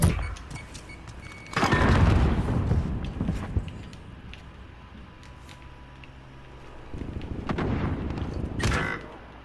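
Gunfire in a first-person shooter match on a bomb-plant mode with a CX-9 loadout, heavy bursts and booms near the start and again toward the end, with a quieter stretch of rumble between.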